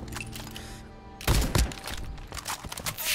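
Gunfire in the video game Fallout 76 against a cultist, a cluster of heavy booming shots and impacts following layered game music and effects, loud and close.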